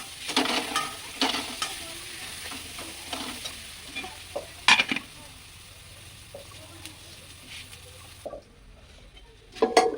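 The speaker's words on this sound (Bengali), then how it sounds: "আমি এর মধ্যে দিয়ে দিচ্ছি একটু চিনি, আর একটু নেড়ে চেড়ে কষিয়ে নেব।" Spiced masala with sugar stirred and frying in a pan for a goat meat curry, with steady sizzling and scraping strokes that rise and fall, a few sharper clatters, and a brief quiet stretch before more stirring.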